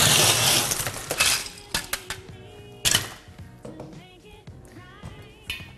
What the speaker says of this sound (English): Now that we've got our ice in there